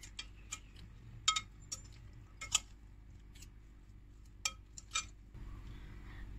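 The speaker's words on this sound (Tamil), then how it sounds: "ஸோ இப்போ இதை நம்ம மிக்ஸ் பண்ண ஆரம்பிச்சிடலாம்" A spoon clinks and scrapes in a bowl while leftover idli pieces and vegetable salad are mixed with tomato chutney. The sharp taps are scattered and irregular over a quiet, low background.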